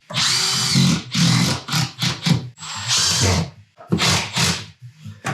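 A power drill drives sheetrock screws into OSB board in a rapid series of loud, close whirring bursts separated by short pauses.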